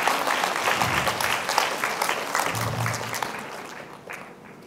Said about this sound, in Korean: 이쯤 되면 박수 치는 거예요.